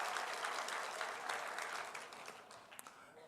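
A church congregation applauding, a soft, fairly distant wash of clapping that slowly fades toward the end.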